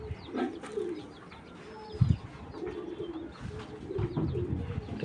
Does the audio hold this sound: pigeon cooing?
yes